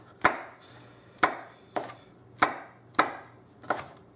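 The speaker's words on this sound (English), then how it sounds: "we'll go ahead and just do a quick chop on this" A knife chops a Serrano pepper, seeds and all, on a cutting board in a home kitchen, landing six sharp, evenly spaced strikes about every 0.6 seconds, close and distinct with quiet gaps between.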